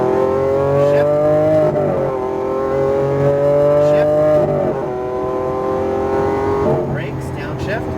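A Lamborghini Aventador accelerates hard on a race track, its loud engine note climbing in pitch and dropping back at each shift several times, heard close from inside the car.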